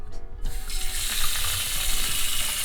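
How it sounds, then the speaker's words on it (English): Water runs from a kitchen sink tap into a cooking pot, a steady rushing splash that starts after a short clunk and continues evenly, close and fairly loud. "let's go grab some water in the pot."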